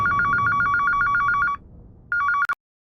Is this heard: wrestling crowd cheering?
no